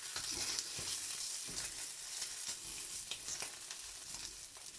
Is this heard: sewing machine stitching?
no